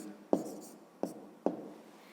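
Pen or pencil working out math on paper, three brief scratchy strokes spaced apart, close and faint in a quiet room.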